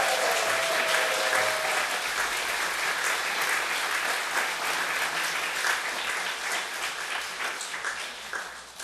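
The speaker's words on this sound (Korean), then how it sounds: "다시 한번 뜨거운 박수 부탁드리겠습니다." A church congregation claps for its combined choir, a full, even burst of applause that stays strong throughout before tapering slightly at the end, with no talking over it.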